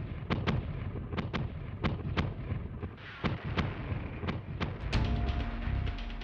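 Naval bombardment from offshore cruisers during the Inchon landing in the Korean War: a rapid series of heavy booming gun blasts, over a dozen sharp reports in irregular rhythm over a constant low rumble, with no voices.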